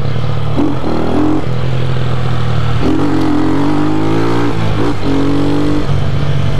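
A Honda CG motorcycle engine revs loudly and steadily during a wheelie attempt, its pitch rising and dropping in several surges of throttle, close and with no voices.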